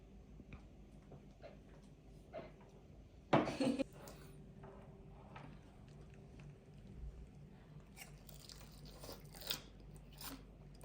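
Crunchy karaage fried chicken, fried at 180 degrees, is bitten into with one loud, close crunch, followed by quieter chewing, faint clinks of dishes and a few later crisp bites.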